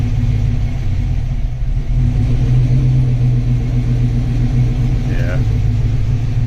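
A Chevrolet Colorado with a swapped-in V8 idles in a steady, loud, low rumble that holds even throughout, with no revving and no talk over it.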